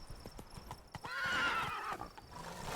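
Roach, the horse in The Witcher 3, clip-clops along at a gallop with a rhythmic run of hoofbeats, then lets out a loud whinny midway before the hooves carry on, close and clear, no talking.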